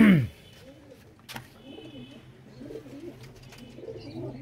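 Pigeons cooing softly in a steady low murmur at an outdoor rooftop loft, with a brief louder noise at the start and faint birdsong overhead.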